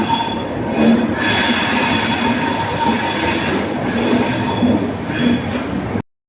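A superfast express train on the Mysore–Bangalore line pulls into a station with a continuous loud rumble, carriages rolling past and high wheel squeal rising at intervals over the six seconds.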